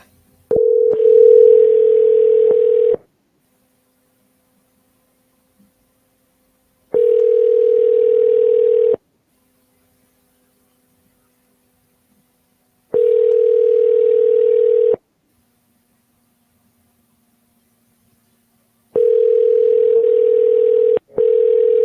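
A ringback tone sounds on an outgoing phone call: four steady, loud bursts of about two seconds each, separated by roughly four seconds of near silence, with no voices.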